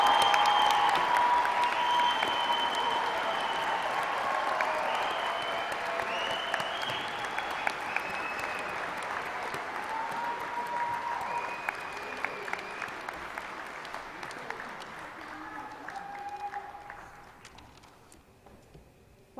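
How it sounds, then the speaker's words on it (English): A standing crowd at a university commencement ceremony gives a rousing round of applause, a dense sustained clapping that rolls on for nearly twenty seconds, with faint whistles and cheers, then tapers off. "I think that deserves one more rousing round of applause."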